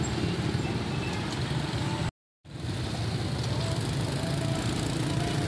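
Motorbikes passing one at a time through a temporary steel-frame tunnel of B40 wire mesh, about 2 m high and 1 m wide, beside elevated railway construction, give a loud, continuous engine roar with a brief silent break.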